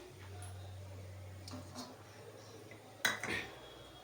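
A metal kadai handled on a gas stove gives a few clinks and a sharp clatter near the end, over a low steady hum, with faint background noise and no speech.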